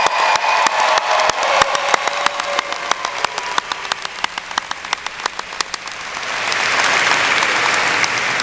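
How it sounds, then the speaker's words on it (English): A graduation crowd applauds the students in a loud, dense, crackling wash of clapping, with individual sharp claps standing out before it swells into a broader roar of hands and cheering near the end. "Can we give them a big round of applause?"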